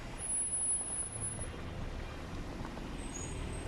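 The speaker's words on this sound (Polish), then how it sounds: "samochody w jedną i w drugą stronę. Ruch niestety dość duży" Heavy two-way traffic of cars and trucks on a busy street in Karłowice, Wrocław, forms a steady roadway rumble, with a faint high squeal briefly audible.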